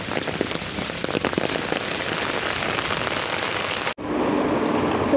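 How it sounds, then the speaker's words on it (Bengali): Heavy rain pours down steadily, a dense loud hiss of drops hitting surfaces that continues without pause, cut briefly by a short gap before resuming just as strong. "খুব জোরে বৃষ্টি হচ্ছে"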